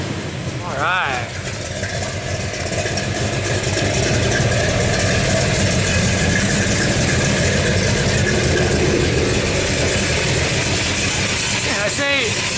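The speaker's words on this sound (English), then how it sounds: "Get old Elizabeth to go rev it for you." A car engine idles steadily and close by, holding a continuous mid-low rumble for the whole stretch with a gentle lift in level partway through; brief voice-like chirps cut in near the start and end.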